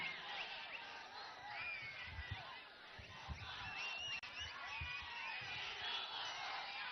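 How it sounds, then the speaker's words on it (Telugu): A distant political rally crowd cheers and shouts continuously during a Pawan Kalyan speech in Rajanagaram, with whoops and scattered yells rising over a steady roar of many voices. "మీ అరుపులు మీ కేకలు"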